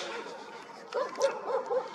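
Several dogs barking outdoors in the evening: a quick run of four or five moderate yips and barks in the second half, over a low hum of outdoor background noise.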